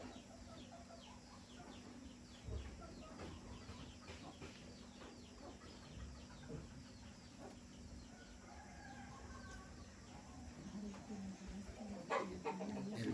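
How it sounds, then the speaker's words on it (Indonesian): Chickens cluck in the background, soft and intermittent against steady room noise, with no one talking. "Ayam."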